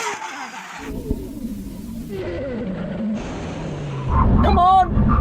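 A Red Bull RB7 Formula One car, a Lamborghini Huracan and a Nissan GT-R make a full emergency stop from 100 mph in a brake test, with loud engine roar dropping away and a rising, sweeping screech near the end, under voices.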